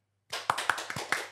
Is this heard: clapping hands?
yes